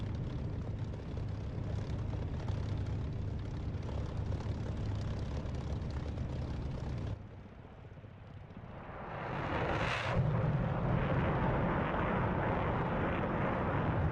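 A jet roars past low and fast in the DCS flight simulator: a loud steady engine drone, a brief dip, then a swelling whoosh peaking as the aircraft sweeps by, the roar continuing after.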